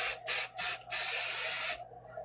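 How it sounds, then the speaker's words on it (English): A can of 505 temporary adhesive spray mists onto quilt batting in three short hissing bursts followed by one longer sustained spray, close and crisp, then quiet. "So I'll just take and spray just a little bit"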